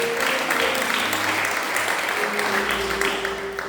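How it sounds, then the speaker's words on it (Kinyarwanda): A church congregation clapping for Jesus, dense, steady applause filling the room throughout, with a sustained tone and a voice faintly over the top. "Dukomere Yesu amashyi cyane"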